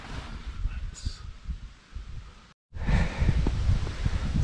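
Wind gusting at a snowy mountain campsite in Barrington Tops, buffeting the microphone in soft rustling bursts with a brief dropout midway.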